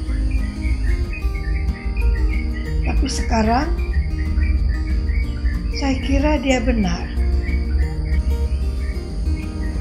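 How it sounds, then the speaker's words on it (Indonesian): Wild birds singing in a garden during morning routine activity, with insect-like chirping throughout and a few bursts of bird calls near the middle, heard under a person talking. "Suara kicau burung di alam bebas terdengar sangat ceria."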